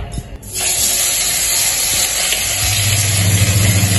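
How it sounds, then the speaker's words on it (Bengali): Steady broadband hiss of parshe fish frying in a pan, loud and close, with a low rumble building toward the end. "এটা কি পার্শে মাছ ভাজছো?"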